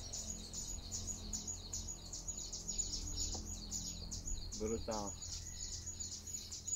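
A troquim bird sings in São Tomé, repeating a rapid series of high chirps steadily throughout, joined midway by a brief lower call, with a voice speaking briefly.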